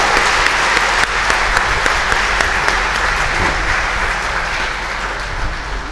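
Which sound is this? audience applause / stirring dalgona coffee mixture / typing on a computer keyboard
audience applause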